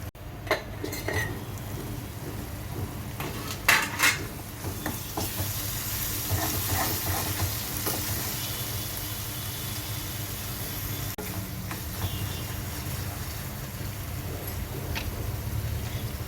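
Mushroom masala base with salt and chili powder cooks in oil under a lid in a pan, giving a steady low sizzle with scattered clinks of utensils and pot throughout.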